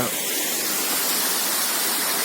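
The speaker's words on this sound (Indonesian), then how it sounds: "Ini merupakan air terjun di atas awan" Rushing water from a waterfall above the clouds at Rerebe, a dense, loud, continuous roar heard close and steady throughout with no other sounds standing out.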